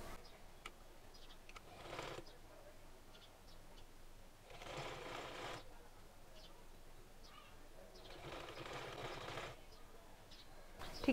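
A sewing machine runs in three short bursts while stitching fabric along the side of a neck design, each run lasting about a second, fairly quiet with small ticks between.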